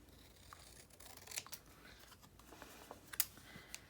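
Scissors snipping through a Reese's gift box, a few short, crisp cuts in quick succession close by, with faint rustling between them and no voices.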